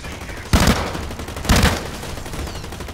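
Two loud sharp bursts of gunfire about a second apart ring out in the first-person shooter game Blacklight Retribution, each with a short trailing decay over a steady game background.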